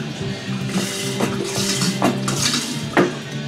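Whiskey sour mix, about a quart, being stirred and sloshed in a container, with clinks and scrapes of utensils against it in an uneven, busy rhythm, close and fairly loud with no talk.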